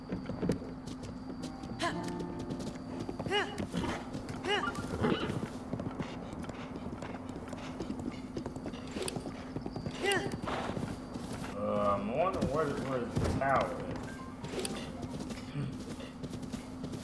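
Horse hooves clip-clop steadily in Zelda: Breath of the Wild near Kakariko Village, moderately close in a soft rhythmic patter, with a brief whinny and game ambience under quiet talk.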